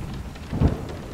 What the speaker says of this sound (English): from a sprinkle of gently tapping raindrops on your slightly open window, to a gentle, distant roll of thunder